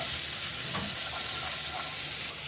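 Onions sizzle and fry in a pot as the base for a porcini and button mushroom risotto, a continuous close, bright crackling hiss with no talking.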